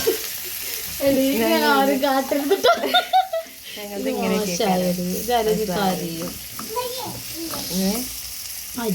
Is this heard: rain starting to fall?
no